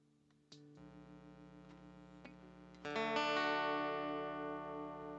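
Electric guitar run through a Coco mini compressor pedal, a few struck chords ringing out evenly with long sustain, moderately loud and alone, the later strum louder and fuller.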